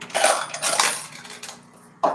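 A slammed door and dropping coins produce a couple of bright metallic clattering bursts, with loose jangling in between and a final sharp clink, fairly loud and close.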